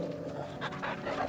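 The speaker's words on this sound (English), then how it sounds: "I wanna pet my dog." A pet dog panting in quick, regular breaths close by, soft and fairly quiet, with a faint whimpering edge and no talking over it.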